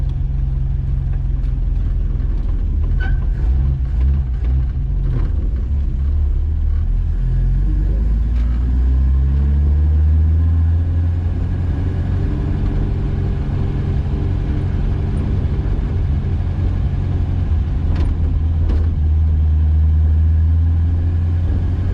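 A 1953 Buick, running again after decades abandoned, drives up and down a hill with its engine rumbling low and loud throughout, a steady droning hum that shifts pitch slightly as it moves, no voices.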